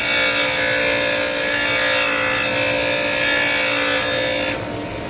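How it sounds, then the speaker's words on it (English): A bench grinder hand-grinding an angle on a high-speed steel lathe bit, giving a continuous loud, bright whine and grinding hiss that drops off sharply near the end as the bit comes away from the wheel. "now I'm going to grind this angle on the top"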